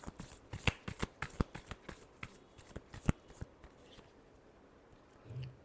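Tarot cards being shuffled by hand, close and quiet, as a series of crisp riffling flicks and slaps in uneven rhythm that thin out toward the end.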